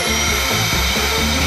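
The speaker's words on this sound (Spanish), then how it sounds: "Creo que nos va a ayudar una aspiradora." Toy vacuum cleaner whirring loudly and steadily at close range during a playful real-versus-chocolate food challenge, with a continuous motor hum and faint pitch wobbles throughout.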